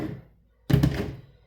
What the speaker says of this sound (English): These plastic tables clank around a lot